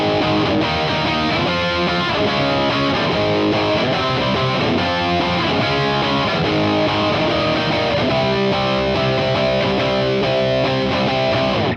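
Distorted electric guitar power chords play the verse progression, a steady, loud, chugging pattern running through the whole stretch with no talking.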